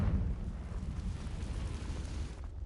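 Confringo fire spell exploding in the Hogwarts Legacy video game, a dull, rumbling low blast that swells at once and holds as a steady roar for a couple of seconds before fading, with no speech.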